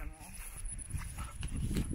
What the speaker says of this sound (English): here's the horse Steph talked to yesterday.